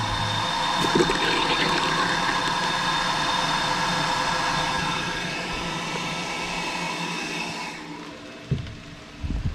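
Water jet roaring through the nozzle of a micro hydro turbine beside a creek, a loud steady rushing hiss that drops off sharply near the end, followed by a few knocks.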